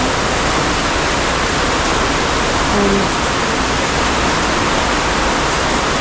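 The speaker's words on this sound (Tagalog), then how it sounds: "Walang tigil na yung lakas ng ulan" Heavy nonstop rain pouring down in Agusan, a loud dense hiss that fills the whole clip without letting up.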